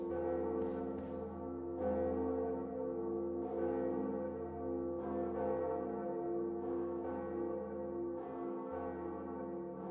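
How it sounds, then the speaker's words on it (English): A church bell tolls repeatedly at an even, slow rhythm, each strike ringing out with a long humming decay, steady and fairly loud with no voices. "We rang the second bell."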